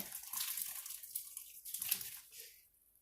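Liquid splashes as it is poured from one container into another in a kitchen, a faint, uneven watery spatter with short bursts.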